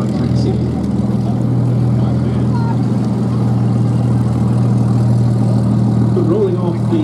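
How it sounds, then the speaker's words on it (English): A Bristol Blenheim and two Spitfire 1A aircraft taxiing at a Duxford air show, a loud steady low piston-engine drone throughout, with a commentator speaking over it. "the Bristol Blenheim and the two Spitfire 1As, all of which have started and are taxiing"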